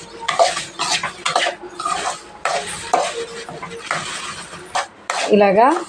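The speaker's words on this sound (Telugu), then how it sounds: "ఈ రవ్వని కొద్దిగా ఆయిల్లో వేసి ఇలా వేయించుకుందాం" Wheat rava roasting in a little oil, stirred with a spoon that scrapes and clinks against the pan in uneven bursts, with someone speaking over the stirring.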